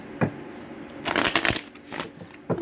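Playing cards are riffled and shuffled close up, with a quick burst of flapping cards in the middle and a few soft taps around it.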